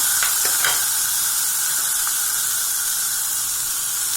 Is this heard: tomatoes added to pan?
yes